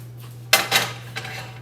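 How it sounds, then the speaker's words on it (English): A baking dish sprayed with cooking spray is lifted and handled in a kitchen: two sharp clinks close together, then a softer scrape, loud and close over a low steady hum, with no talking. "I'm gonna get my dish that we sprayed earlier."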